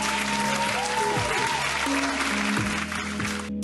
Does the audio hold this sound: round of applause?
yes